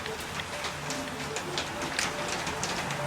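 Dense, steady rain pouring down and spattering on surfaces, a constant hiss with occasional louder drops, no talking.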